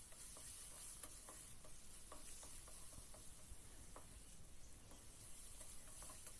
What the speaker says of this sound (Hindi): इनको भी करेंगे थोड़ा सा फ्राई।